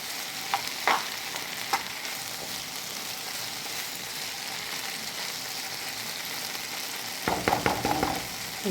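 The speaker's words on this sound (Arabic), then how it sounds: "خلطتها ونخليها تشحر مزيان" Hot and sweet red and green peppers fry in a pan with a steady, even sizzle throughout, broken by a few soft stirring scrapes early on and a busier clatter of stirring near the end.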